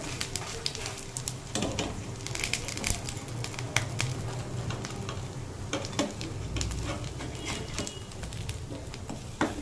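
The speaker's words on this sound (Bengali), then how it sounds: "আমি যেহেতু বড়া বানাচ্ছি তাই কম তেলে ভাজছি।" Oil sizzles steadily as lentil and pennywort fritters shallow-fry in a pan, with occasional scraping and stirring clicks, close and continuous throughout.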